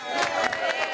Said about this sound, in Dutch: nog een keer dan applaus voor de Lars en de Tessa